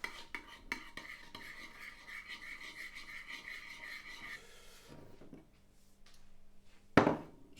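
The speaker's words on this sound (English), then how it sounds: "Just got to have another stir." A spoon stirs frozen Tesco soup mix in a bowl, scraping and rubbing in quick repeated strokes close by, then a pause and a sharp clink of utensil against the dish at the end.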